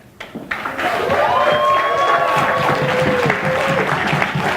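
A lively audience at a pitch competition claps and cheers loudly to vote for a favorite product, sustained applause with whoops and shouts rising after a brief quiet start.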